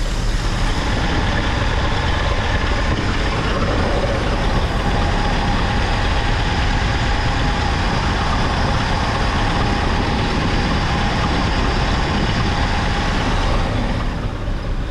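The L134 flathead engine of a 1949 Jeep CJ-3A idles steadily up close, a continuous rough, heavy rumble with no revving and no talking over it.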